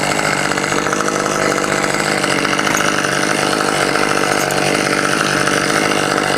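A chainsaw runs continuously during tree trimming from a bucket truck, its loud, steady high-pitched engine whine holding constant with no pauses.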